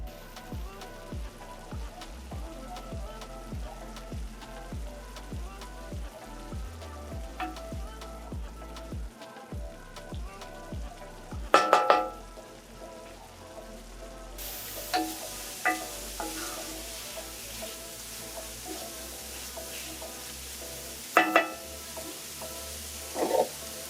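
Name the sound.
mango tarkar mixture frying down in a pot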